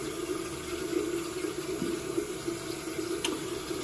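Tap water runs steadily into a sink during a winter face-washing routine, a constant close rushing splash with no talking.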